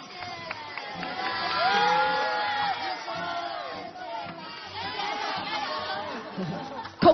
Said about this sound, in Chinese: 再一次掌声感谢陈奕迅